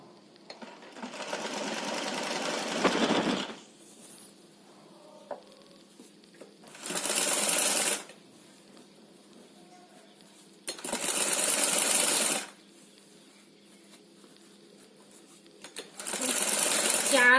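A sewing machine stitches pleats into a dress made from an old saree, running in four separate bursts of a few seconds each, with quiet pauses between them where faint handling noises can be heard.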